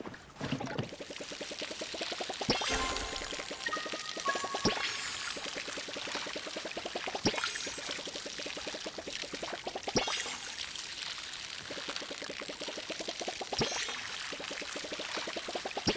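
Crops get watered with a watering can in the Palia video game, giving a continuous splashing pour with repeated rhythmic sweeps and occasional soft chimes, moderately quiet and without speech.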